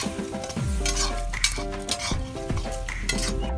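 Onions frying until golden over a wood fire in an outdoor setting, a strong sizzle with brisk metal ladle scrapes and clanks against the pot, close and loud, no talk.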